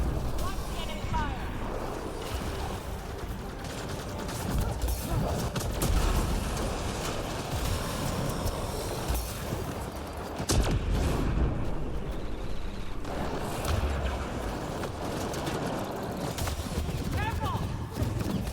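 Enemy gunfire crackles through a dense Mass Effect Andromeda multiplayer firefight, sustained volleys and bursts layered with combat noise, with in-game voices calling out over the shooting.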